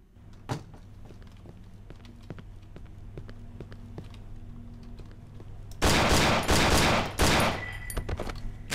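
Rapid gunfire from a firearm in the horror game Cry of Fear, a loud dense burst of automatic shots after a stretch of quieter ambient clicks and thuds.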